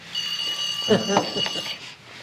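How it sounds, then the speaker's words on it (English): An electronic alarm beeps in a steady high tone while someone talks briefly over it, fairly close. "It's my alarm from yesterday, telling me to go to work."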